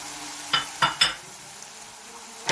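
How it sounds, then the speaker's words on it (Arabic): Onion slices for Syrian shawarma bread hit a hot pan, giving three quick clattering scrapes of stirring over a soft, steady sizzle. "ننزل بشرايح البصل"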